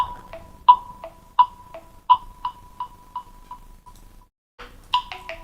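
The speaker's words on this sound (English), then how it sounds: "That's my phone." A phone notification chime rings repeatedly in a steady rhythm of clear tonal pings, loud and close, stops, then a brief second burst follows.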